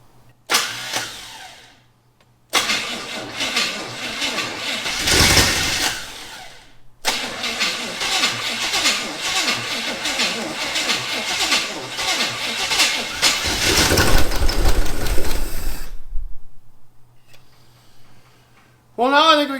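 A rusty 1974 Chevy Camaro's 400 V8, long abandoned in a scrap pile, cranks and fires, then runs loud and rough with revving surges before cutting off, while people cheer and talk around it.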